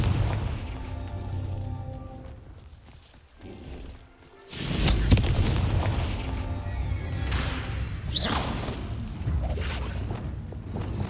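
The Confringo explosion spell in the Hogwarts Legacy video game detonates with a loud booming blast, followed by several seconds of crackling, rumbling aftermath and smaller impacts.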